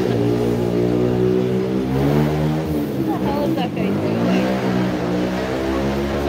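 Motorbike engine revving on a street in Yogyakarta, Java, heard as a loud, continuous, close drone whose pitch rises and falls through the whole stretch, with other traffic noise mixed in.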